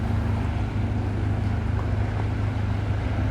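A sleek motor yacht passes in the Bay of Islands, New Zealand, its low engine rumble steady and continuous under wind noise on the microphone.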